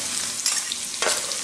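Garlic sizzling in hot cooking oil in a pan for a Filipino beef and cabbage sauté, a steady bright frying hiss with two brief louder bursts as it is stirred, no voices.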